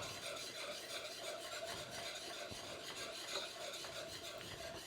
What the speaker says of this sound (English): So just continue to stir this.